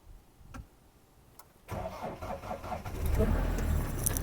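After a few quiet clicks, a Mahindra ROXOR engine cranks and fires on a cold start, then settles into a rough, louder idle that rises near the end.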